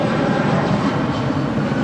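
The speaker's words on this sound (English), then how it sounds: "This is United Airlines 2039 departing to Chicago O'Hare on a 757-300." A United Airlines Boeing 757-300 departs LAX for Chicago O'Hare with a broad, steady jet roar that holds at an even loudness through the short stretch.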